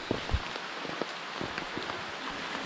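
Steady patter of rain falling on a surface on the climb to Sri Pada (Adam's Peak), Sri Lanka, a soft continuous hiss with scattered drop taps, no voices.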